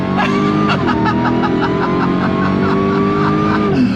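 A 2022 Jeep Gladiator Demon truck engine roars at full throttle, loud and close, a steady throaty drone that holds for the whole stretch.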